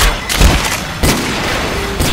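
Pipe bomb blast in the Left 4 Dead 2 video game: loud, dense explosions and bursts of gunfire crowd the whole stretch, with a few heavy booms standing out.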